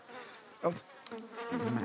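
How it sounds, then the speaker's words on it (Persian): A fly buzzes in short, faint bursts that rise and fade close to the microphone, with quiet background hiss and no talking. "مگس آقا اون مگس کش تدافعی رو برده بیار، این ویز ویزت میخوام به صورت صلح‌آمیز از بین ببرم"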